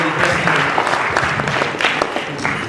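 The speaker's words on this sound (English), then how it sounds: "give her a round of applause" A crowd at a hotel event applauds a speaker, a loud, continuous burst of many hands clapping with a few voices murmuring underneath.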